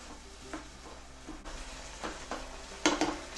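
Egg roll filling cooking down in a pan, a soft steady sizzle with a few scattered stirring scrapes and utensil clinks against the pan, close and moderately quiet.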